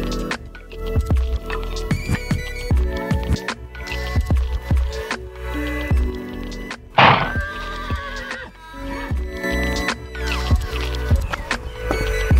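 Horses in their stable boxes neigh and whinny loudly and close by, with hoof thuds and stamping on the stall floor, a shrill whinny rising above the stable clatter midway.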